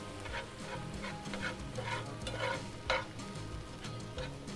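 Venison browns in a pan while being broken up and stirred, a low sizzle under repeated scraping and clattering stir strokes with one sharper knock near the middle.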